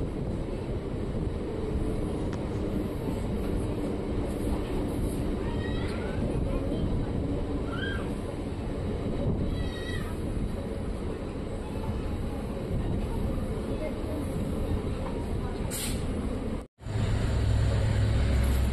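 A DEMU train rolling into Mariyammanahalli railway station, a continuous loud rumble of wheels and engine heard from inside the coach, with faint squeals and a brief dropout near the end.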